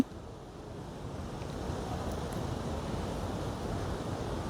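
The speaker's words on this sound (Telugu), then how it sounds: "ఇదే వాటర్ ఫాల్ ఇక్కడ" Steady rushing roar of a waterfall near the Three Bridges viewpoint, a broad low wash with gusty wind-like texture, moderately distant and unbroken, with no voices.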